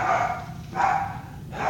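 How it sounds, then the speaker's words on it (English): Several dogs bark in three loud bursts, each a cluster of overlapping barks, with short pauses between them. "I told you they were going to start barking."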